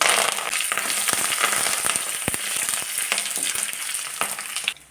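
Dried red chillies and curry leaves hit hot oil already holding popped mustard seeds and urad dal for a broken-wheat upma. The result is a dense crackling sizzle with sharp pops and stirring scrapes that dies away at the end.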